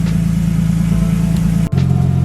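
Nissan RB25 engine idling while warming up after an oil-leak repair, a steady loud low rumble with a brief dropout before the idle resumes.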